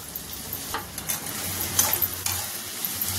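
Vegetables for veg fried rice being stirred in a hot pan, a steady sizzle broken by repeated scraping strokes of the spoon, close and fairly quiet, with no talk.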